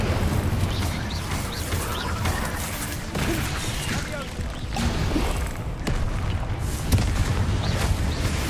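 Fire spell blasts in Hogwarts Legacy, a dense run of loud booming, crashing bursts with no break across the whole stretch.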